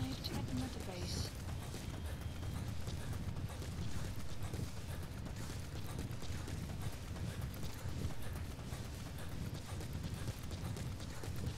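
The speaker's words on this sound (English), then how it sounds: "I'm getting to my horse." Horse hooves clip-clop steadily in Metal Gear Solid V, a continuous trotting rhythm running the whole stretch beneath dense game ambience and someone talking over it.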